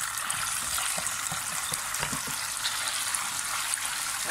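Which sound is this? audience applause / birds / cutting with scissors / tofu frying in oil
tofu frying in oil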